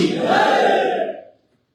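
A large crowd at a Banjara community leaders' meeting in Arsikere roars a loud collective cheer of 'Bharat Mata ki Jai', a single swelling shout that fades out after about a second.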